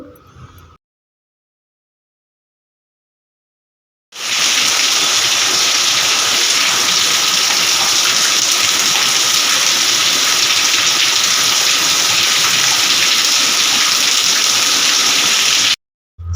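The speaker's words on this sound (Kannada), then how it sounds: "ತಂಪಾಗಿ ಮಳೆ ಬರೋದು ಸ್ಟಾರ್ಟ್ ಆಗಿಬಿಡ್ತು ಎಷ್ಟು ಚೆನ್ನಾಗಿ ಮಳೆ ಬರ್ತಾಯಿತ್ತು ಅಂದರೆ ಸಿಕ್ಕಾಪಟ್ಟೆ ಜೋರಾಗಿ ಬರ್ತಾಯಿತ್ತು" Heavy rain pours down in a dense, steady roar for about twelve seconds. It starts abruptly after a short silence and cuts off just as sharply, loud and close with no voices.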